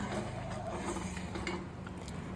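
A spoon stirs triple fruit payasam in a pot over low to medium flame, giving faint, steady scraping and clinking against the metal under a soft cooking hiss, with no talk.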